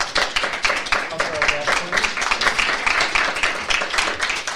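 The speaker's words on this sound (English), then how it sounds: "A round of applause for our guest, please." An audience at a roundtable discussion claps for a guest, a modest, somewhat uneven patter of hands at moderate volume, with voices talking over part of it.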